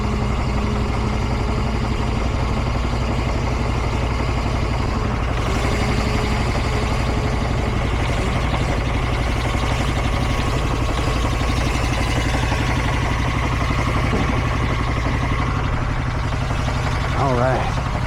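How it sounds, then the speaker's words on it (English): Steady engine idle from a lawn care fertilizer and weed-control sprayer, a constant low rumble running throughout at close range, with someone talking briefly over it. "Turn that engine off."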